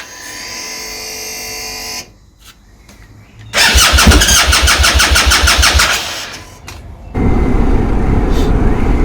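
A motorbike, with its fuel tank recently removed and refitted, is cranked and fires up briefly before cutting out, then restarts with a loud, rapid rhythmic chattering; a further steady engine roar follows, close to the microphone.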